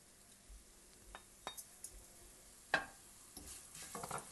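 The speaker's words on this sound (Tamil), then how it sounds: "எண்ணெய் இப்போ சூடாயிடுச்சு இப்போ எண்ணெயில் வந்து கடுகு சீரகம் கொத்தமல்லி போட்டுக்கலாம்" Mustard seeds, cumin and coriander hit hot sesame oil in a pan, giving a faint sizzle broken by scattered sharp pops and clinks, with one louder crackle near the middle and a denser patch of spitting toward the end.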